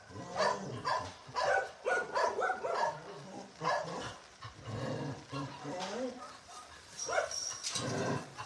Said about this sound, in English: And on the other side, happy doggies.